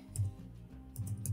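Computer keyboard typing on an Android setup, a short burst of soft key clicks in two clusters, close and quiet with no talk.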